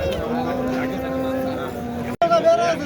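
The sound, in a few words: fattened oxen mooing at a livestock market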